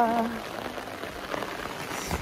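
Rain falling in the Kalimpong hills, a soft steady patter on surfaces, heard briefly and moderately close, with no talking over it.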